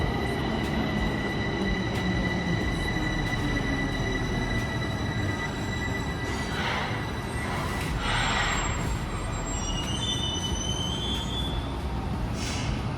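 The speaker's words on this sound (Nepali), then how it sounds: "मेट्रो आउँदैछ।" A metro train rumbles into the station with steady loud rolling noise and high metallic squeals from the wheels as it slows.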